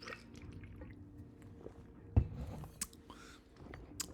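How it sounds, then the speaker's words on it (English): Water being drunk from a gourd, heard as soft close sips, one sharp gulping thump and wet swallowing sounds, quiet and intimate against faint room noise. "Drink some water."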